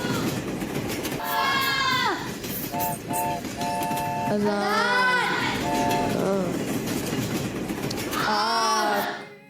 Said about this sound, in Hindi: दारुल मदीना के लिए ट्रेन